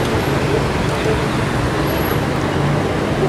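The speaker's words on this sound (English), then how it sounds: "There's so much traffic in Mexico City." Dense road traffic in Mexico City, a loud constant wash of car, bus and truck engine rumble with no breaks, heard close from the roadside.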